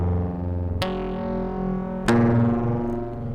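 A Cre8audio East Beast synthesizer holds a buzzing, harmonically rich drone with fast amplitude-modulation wobble, restruck twice with sharp attacks and a sliding shift in pitch, loud and alone.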